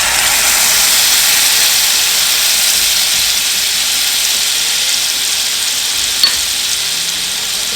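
Butter and garlic sizzle loudly in a pan alongside browned meatballs, a steady close, bright frying hiss that holds evenly throughout with only a tiny click near the end and no voices.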